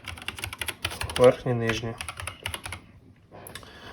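Keys clicking on an Akko 3068B Plus compact mechanical keyboard, a quick run of close, crisp taps spread through the clip, with someone speaking over much of it.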